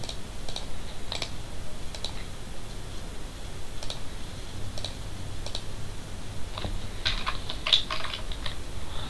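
Computer keyboard typing, with scattered crisp key clicks spread across several seconds and a few closer, sharper presses near the end, recorded alone in a quiet room.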